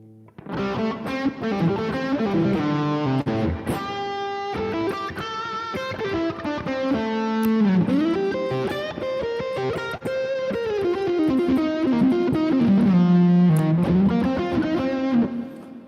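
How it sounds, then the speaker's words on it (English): A distorted electric guitar plays a bluesy line of bends and sustained notes, bathed in a wash of heavy reverb, with no voices. "There's plenty of reverb on that there, so we'll knock that back a bit."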